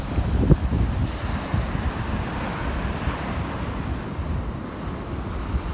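Steady roar of sea waves washing in, with gusty wind buffeting the microphone throughout; no voices.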